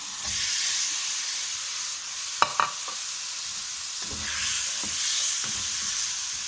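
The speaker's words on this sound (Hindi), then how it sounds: "प्याज हल्के फ्राई हो चुके हैं, बहुत ज़्यादा फ्राई नहीं करने। अब इसमें हमने ये चिकन डालना है।" Chicken pieces go into lightly fried onions in a karahi: a steady moderate sizzle with a few sharp clatters midway, then the frying hiss swells again and keeps going without any talking.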